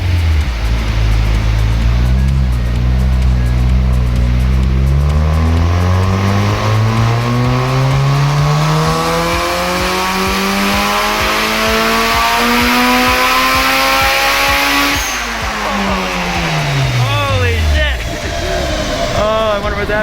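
Car engine on a dyno winds up to a very high rev, the pitch climbing steeply and holding near the top before falling off sharply, heard loud and close with people talking over it.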